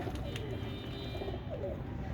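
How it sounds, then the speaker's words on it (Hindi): Royal Teddy breeder pigeons kept in a cage coo steadily in low, throaty tones nearby, with a faint chirp here and there over constant background noise. "ये असल में क्या है कि कुरीज में है कबूतर सारे"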